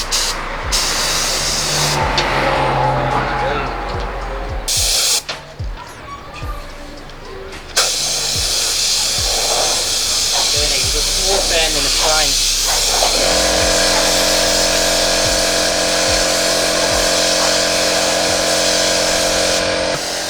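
Bursts of loud hissing spray from a paint spray gun under test in a car body shop, with long stretches of steady airflow and a sharp start and stop, while people talk over it.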